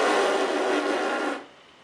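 Buzzing lip roll made with lips pursed too tightly, a single bright raspy buzz of about a second and a half that cuts off abruptly, with no speech over it.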